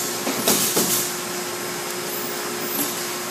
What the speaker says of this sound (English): it picks up a lot of your metal shavings throughout the day with that vacuum running on the back of the saw